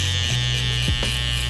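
An electric hair liner trimmer used by a barber while cutting a fade buzzes steadily and close by, holding a constant hum with slight pitch shifts as it is handled.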